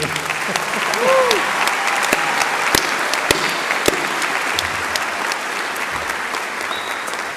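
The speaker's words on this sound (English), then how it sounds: "give Ashley a slightly better round of applause than that" Audience applause at a university graduation ceremony in a full hall, sustained clapping from many hands lasting several seconds, loud and even with a few sharper claps standing out.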